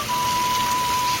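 Heavy monsoon-style rain pours down on a village morning, a dense steady hiss of downpour with a faint constant tone running through it, brief and without voices.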